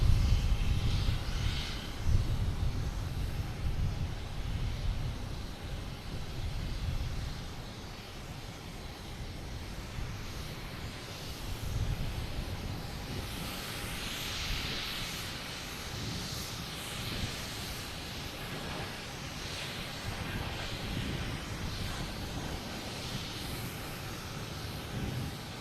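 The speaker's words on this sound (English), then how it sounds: "We have JetBlue in A220 heading to JFK." A JetBlue Airbus A220 jet airliner at Boston Logan, bound for JFK, sends out a continuous engine roar with rumbling low end and hissy upper texture, loudest at the start and then settling to a steady, moderately distant level, with no voices.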